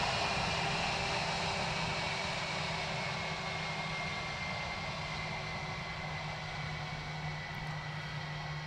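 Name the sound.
aircraft circling near Dublin Airport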